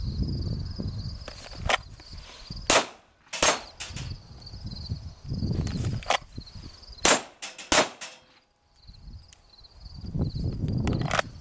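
Pistol shots fired on a range during a drawing drill, several sharp loud cracks spaced a few seconds apart over faint outdoor insect buzz and shuffling movement between shots.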